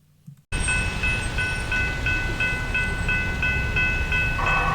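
A freight train rumbles past close by, a broad steady roar with a repeating rhythmic clatter of wheels over rail joints.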